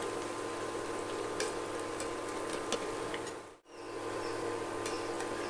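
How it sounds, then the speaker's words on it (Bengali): Drumstick flower fritters frying in hot oil after being flipped, a steady low hiss with scattered faint ticks and crackles, briefly cut to near silence partway through. "সবকটা বড়া আমি উল্টিয়ে নিয়েছি, এবার আমি আরেকটা দিক হতে দেবো।"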